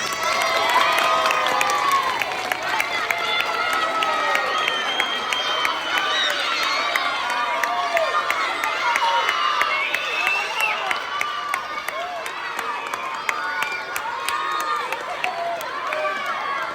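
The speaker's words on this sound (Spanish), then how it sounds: "demos un fuerte aplauso a Dani Carvajal." A large crowd at an event cheers and shouts with steady applause for footballer Dani Carvajal, a dense continuous roar of many voices that stays loud throughout.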